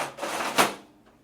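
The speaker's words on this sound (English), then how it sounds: "Next, reinstall the paper tray." A Lexmark T640 laser printer's paper tray slides back into the machine with a rolling plastic scrape that ends in a short seating thump, close and fairly loud.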